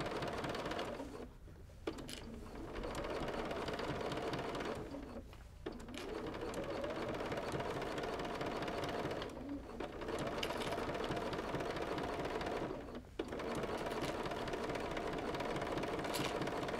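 A sewing machine runs steadily, stitching quilt binding with a stitch-in-the-ditch foot, in long continuous bursts separated by three brief pauses.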